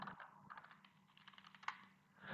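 Rapid keystrokes on a computer keyboard while working in a Kali Linux terminal, a close, steady run of light clicks with a brief pause, then a louder final press.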